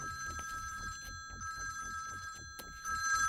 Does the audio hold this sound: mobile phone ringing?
yes